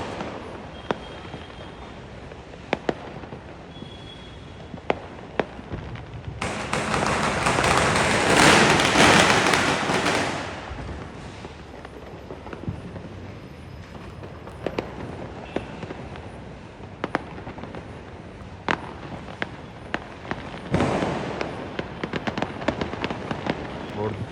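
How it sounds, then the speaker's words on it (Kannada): Diwali firecrackers go off around a village: sharp scattered pops and thuds at varying distances, then a dense crackling barrage that swells for a few seconds and fades, with voices heard among the bangs. "ಅಯ್ಯೋ ಒಂದೂರಲ್ಲಿ ಎಷ್ಟು ಪಟಾಕಿ ಹೊಡ್ತಾವ."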